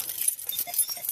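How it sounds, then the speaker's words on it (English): Two separate truck keys clink and jangle on a clip-on keychain hooked to pants in a cold truck cab, a close, bright, irregular metallic rattling over roughly a second. "And I got 2 keys, but in my case I have 2 separate keys."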